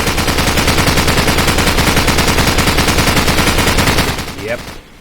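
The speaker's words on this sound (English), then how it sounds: "That is a machine gun" Machine gun fire in the video game Modern Warfare, a loud, sustained automatic burst of rapid evenly spaced shots for about four seconds before trailing off into a brief fading rattle.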